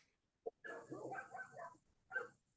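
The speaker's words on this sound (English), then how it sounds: "They're the dogs next door on the site." Dogs next door on a neighbouring site bark in a short burst, a yip followed by a cluster of muffled barks and one more bark, fairly faint and distant.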